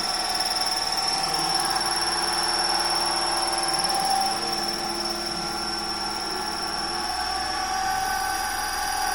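A DC shunt motor runs steadily with a constant whine and a hum beneath it, the pitch rising slightly partway through as it speeds up.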